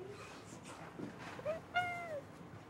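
A cat at an animal refuge gives a few short, faint meows, then one clearer, drawn-out meow near the end, set against quiet room noise with no talking.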